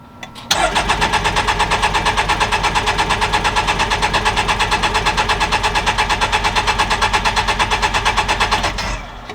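An engine cranks over to prime oil before starting, a loud rapid rhythmic chugging of the starter turning it over that begins abruptly, runs steadily for about nine seconds, then cuts off.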